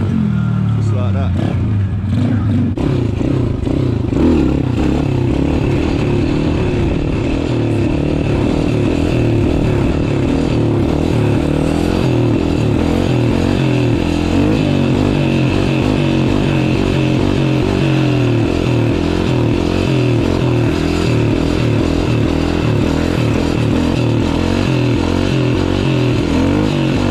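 A Thumpstar 140 pit bike engine idles and revs up and down close by for a long stretch, a rough rattling buzz with people talking over it.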